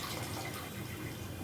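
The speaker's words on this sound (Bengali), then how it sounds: "এই যে পাট শাকটা ধুচ্ছি" Water runs and splashes steadily as jute leaves are washed in a sink or basin, a close, continuous rushing with no voices.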